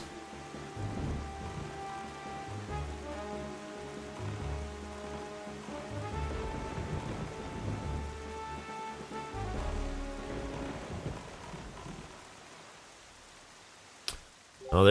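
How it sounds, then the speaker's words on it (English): On Windfall Island in The Legend of Zelda: The Wind Waker, steady rain hisses under a soft musical score for most of the stretch, then fades toward near silence before a sharp click at the end. "it's even raining over here in Windfall Isle."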